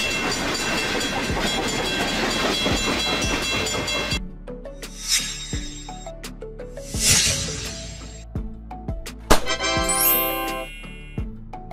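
A freight train for goods and cargo rumbles along the rails nearby, its wheels clacking in steady rhythm under a hiss of steam and squealing metal, growing choppier and brighter toward the end.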